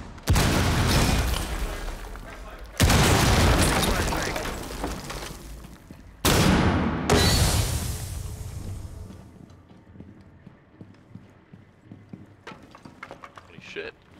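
Breach charges blow through walls in Rainbow Six Siege, three loud, sharp blasts that each start abruptly and decay into crumbling debris, followed by quieter rattling and a faint burst near the end.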